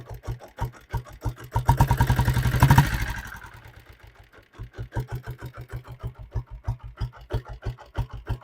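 A diesel Bullet motorcycle engine starts with a rising roar, then settles into a steady, close, loud thumping idle with an even, rapid beat.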